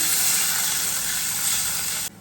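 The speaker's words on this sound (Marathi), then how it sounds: "फळफळ उकळी फुटली" Water for pithla boils vigorously in a pan, a steady loud bubbling hiss that runs unbroken and then cuts off abruptly.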